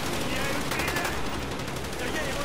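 Rapid automatic gunfire in Call of Duty: Black Ops rattles loudly and continuously, a dense barrage of shots with voices talking over it.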